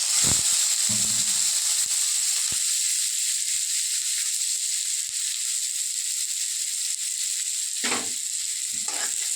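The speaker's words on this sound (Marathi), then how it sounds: "आता याच्यामध्ये लगेच कांदा टाकून घेते." Chopped onion hits hot oil in a pan for Maharashtrian kanda poha, setting off a loud, steady sizzle that runs the whole time, broken by a few sharp clanks of utensil against the pan.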